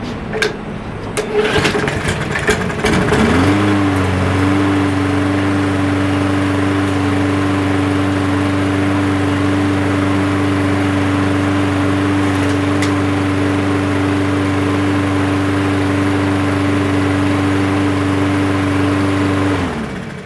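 A push lawn mower engine cranks with a few rough sputters, then catches and settles into a loud, steady, even idle that holds right to the end.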